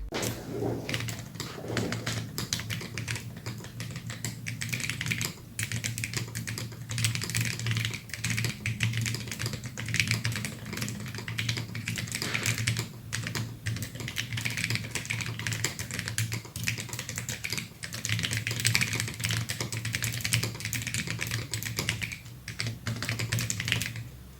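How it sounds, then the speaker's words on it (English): Steady, rapid keystrokes on a mechanical split keyboard (Corne), continuous and close, with a soft hum underneath and no talking. "Now, typing test."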